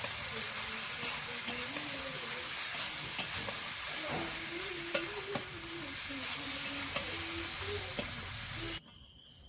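Boiled mung beans stir-fried with spice paste in oil in a kadai, giving a steady close sizzle broken by scraping stirring strokes that stops abruptly just before the end.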